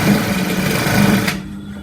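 Sewing machine running steadily as it stitches a sleeve into an armhole, a close, continuous whirring hum that cuts off abruptly near the end, leaving quiet.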